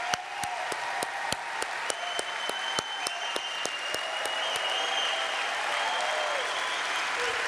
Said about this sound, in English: let's give them a big round of applause for building a better Long Beach